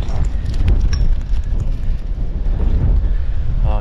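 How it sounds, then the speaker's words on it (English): Steady wind buffeting a microphone outdoors beside water while yabbying, a continuous low rumbling roar that stays loud for the whole stretch with no clear talk. "Oh, wind."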